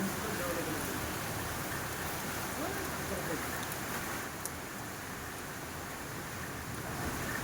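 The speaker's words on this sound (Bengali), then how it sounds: "দেখো কি বৃষ্টি" Steady heavy rain pours down in a dense, continuous hiss over flooded streets in Odisha, loud and close throughout with no pauses.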